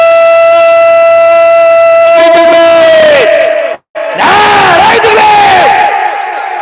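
A large crowd at an outdoor religious gathering in Pumlia, Ashoknagar loudly shouts takbir in unison, two sustained bursts of massed voices with a brief gap between them.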